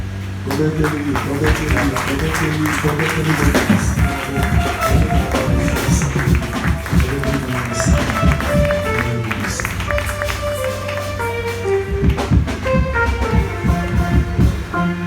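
A church congregation at a Pentecost service claps and acclaims, rhythmic hand claps and raised voices mixing over sustained music for the whole stretch.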